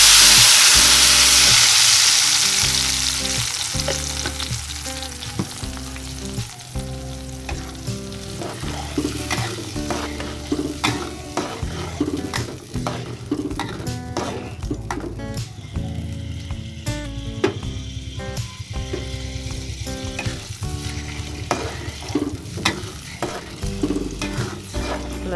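Sambal made of ground chili and spices for Medan anchovy sambal, with shallots, sizzles steadily in hot oil in a pan, with stirring scrapes throughout; a loud, close, continuous fry with no talking.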